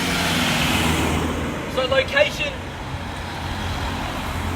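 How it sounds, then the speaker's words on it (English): A car passes along a suburban street in Burwood East, a brief swell of tyre and engine noise rising mid-clip over steady traffic hum while someone talks throughout. "Just let the car come through."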